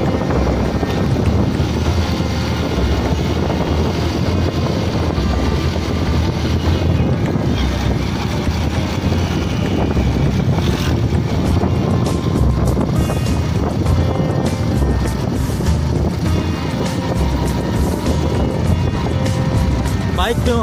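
Motorcycle ride along a green village road in rural Pakistan, with loud, constant wind buffeting the microphone over a low engine drone that holds steady throughout.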